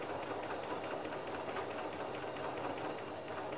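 A home sewing machine runs a steady stitching line along the fabric edge by the presser foot, a continuous, fairly loud, even mechanical whir with fine rapid ticking and no talk over it.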